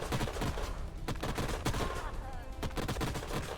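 Gunfire in Age of Wonders Planetfall as an Amazon-faction battle plays out, a rapid string of loud cracking shots and bursts repeating over busy combat noise, with no talk over it.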